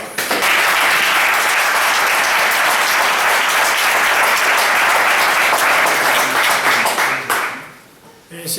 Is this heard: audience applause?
yes